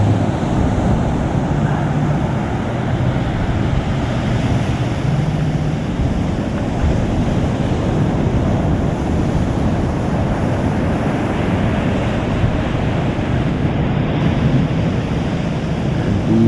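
Ocean waves and gusting wind roar steadily during an offshore powerboat race, a broad continuous rush of surf and wind buffeting the microphone with no clear breaks.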